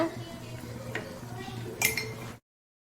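Eggplant being stirred in a pan for Tamil kathirikkai kadaisal, with a few soft clinks and scrapes of a utensil against the pan over a low background hum, one brighter clatter near the end.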